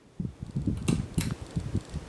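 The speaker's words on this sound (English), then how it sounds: "it still kind of makes a grinding noise, which is most apparent on the high speed." A 42-inch CEI ceiling fan on high speed hums with a rough, rhythmic grinding and clicking from its worn bearings, pulsing steadily at close range with no talking.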